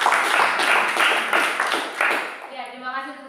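A classroom group of students claps in applause, a few seconds of dense rhythmic clapping that stops abruptly, followed by a voice speaking.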